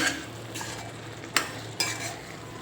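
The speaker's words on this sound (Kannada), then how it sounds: "ಈಗ ಚೆಂದಾಗಿ ಮತ್ತೆ ಮಿಕ್ಸ್ ಮಾಡ್ತೀನಿ" A spoon stirs ennegayi palya, a North Karnataka stuffed brinjal curry with sesame and peanut powder, in a pan. Soft scraping sounds repeat over a faint sizzle, with two sharper clinks of metal against the pan.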